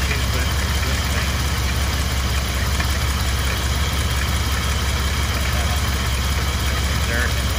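A Jaguar car engine with coolant trouble idles in a steady, loud, even drone that continues unchanged throughout, with someone talking over it.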